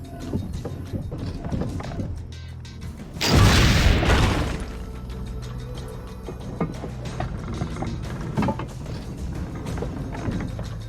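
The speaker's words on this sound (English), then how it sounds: "Cannon time! To test the alignment." A cannon fires in Assassin's Creed Brotherhood, a single loud, booming blast lasting under a second, set against a steady bed of in-game ambience and faint clattering.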